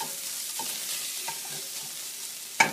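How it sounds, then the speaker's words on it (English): Vegetables for a vegetarian pizza fry in a pan with a soft, steady sizzle and faint stirring scrapes, ending in a sharp clink of metal. "So we're still frying here."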